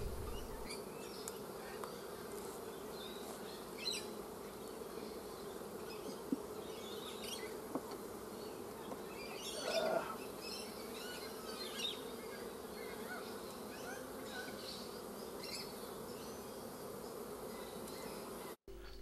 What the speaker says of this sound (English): The bees are starting to backfill these frames